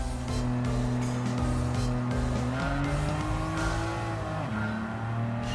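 Race cars in Gran Turismo 7 drone steadily along the track, their engine tones holding a continuous whine that shifts pitch as gears change, loud and unbroken throughout with no voices.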